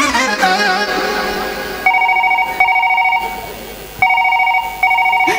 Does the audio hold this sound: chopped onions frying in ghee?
no